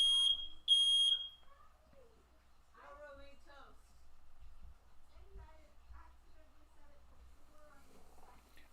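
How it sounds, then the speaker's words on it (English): A household smoke alarm set off by burnt sourdough toast gives two loud, shrill electronic beeps at the start, then falls silent while a person talks over a quiet room. "Why is the smoke alarm going off?"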